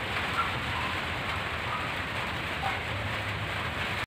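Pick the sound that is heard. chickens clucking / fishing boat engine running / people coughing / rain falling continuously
rain falling continuously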